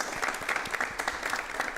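An audience breaks into applause after a call to clap during a career talk on research and development, a short burst of moderately loud, steady clapping that fills the hall.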